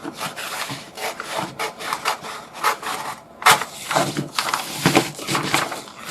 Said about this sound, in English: I'm just going to cut this out roughly.